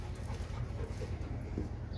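A dog whimpers softly and faintly, giving short whiny yips and breathy panting over a low background rumble.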